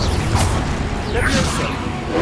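Incendio fire spell cast in the Hogwarts Legacy video game, a loud whooshing burst with crackling swishes layered over steady game background noise, repeated in quick spell-combat succession.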